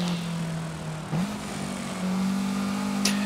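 A car engine in Forza Horizon 5 drones steadily at close range, with a short surge in pitch as the driver accelerates and then a sustained higher hum, plus a brief sharp crackle near the end.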